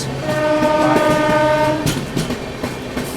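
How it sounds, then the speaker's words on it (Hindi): A Duronto Express train overtakes the Vasco Goa Express. A loud, sustained horn blares over rumbling clickety-clack of wheels, then fades into steady rail noise with rhythmic joint clicks. "यहाँ हम लोग ओवरटेक कर रहे हैं हज़रत निज़ामुद्दीन वास्को गोवा एक्सप्रेस को"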